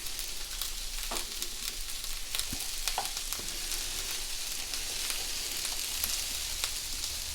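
Red peppers and snow peas sizzle and crackle steadily in a hot frying pan for Singapore noodles, with occasional scraping stirs, close up and with no talking.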